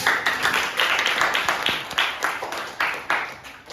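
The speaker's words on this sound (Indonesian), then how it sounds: "Kita kasih aplaus dulu" A classroom group claps after a presentation, producing a brief round of scattered, moderately quiet applause with irregular, overlapping claps.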